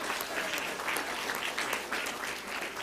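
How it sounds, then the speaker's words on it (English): A church congregation claps steadily in a burst of birthday applause, dense and fairly close, with no voices standing out above it. "Let's give old Pascal Hamby a birthday hand clap today"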